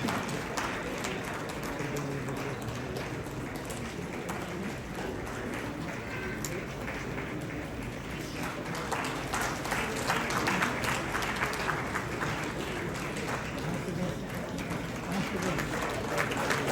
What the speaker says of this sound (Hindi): तालियां जोर से बजती रही तो कितना अच्छा लगता है।